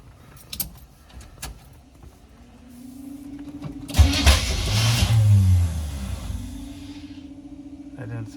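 A car starter struggling on jumper cables with a bad starter, grinding and churning loudly for a few seconds amid garage clatter, with the engine briefly catching and fading back to a low hum.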